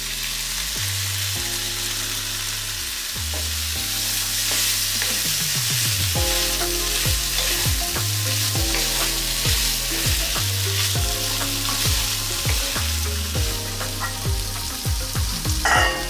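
Garlic and paprika frying and being stirred in a pan while cooking chicken livers, a steady loud sizzle with repeated scraping stir strokes throughout, no voices.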